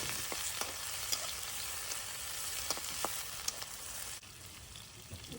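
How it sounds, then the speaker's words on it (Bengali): Medium onion sautéing in hot oil with garam masala in a wok over a backyard wood-fired stove, a fairly faint, steady sizzle with occasional light ticks and scrapes. "এখন একটা মিডিয়াম সাইজের পেঁয়াজ দিয়ে দিব পেঁয়াজটা ভালোভাবে সটে করে সফট করে নিব"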